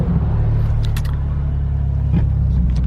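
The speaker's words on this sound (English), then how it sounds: "Car drives perfectly" A 2017 Porsche 911 Turbo S with all-wheel drive rolls along the road, its steady low engine rumble and tire noise filling the cabin, with a few faint clicks and no talking.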